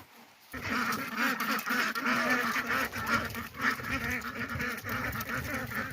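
Ducks quack repeatedly in a noisy, overlapping chorus, close by and fairly loud, continuing steadily throughout.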